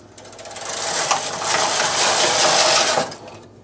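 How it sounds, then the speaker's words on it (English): A knitting machine carriage sweeps across a slip stitch hat, a steady mechanical whirr and rattle building over about three seconds, close and fairly loud, then cutting off abruptly. "So now I'm going to knit two more rows."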